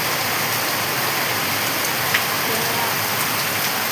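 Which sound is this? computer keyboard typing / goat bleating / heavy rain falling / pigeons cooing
heavy rain falling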